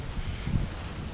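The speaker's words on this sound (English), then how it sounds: "I'm hoping the wind doesn't really go on this video, because it's windy and cold." Wind buffeting a microphone outdoors in a cemetery on a cold night, a low rumbling gust that swells briefly in the middle, with no voices.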